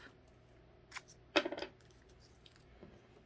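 A strip of tape torn off a roll, a short quick ripping burst after a faint soft tug, in a quiet room.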